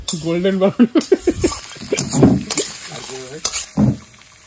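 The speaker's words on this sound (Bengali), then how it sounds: "সুন্দর করে পেঁয়াজটা ভাজা হচ্ছে। পেঁয়াজ ভুনা হচ্ছে।" Onions fry in a pan for a Bengali chicken kosa curry, with scraping stirs and soft sizzling beneath a voice that speaks over most of the clip.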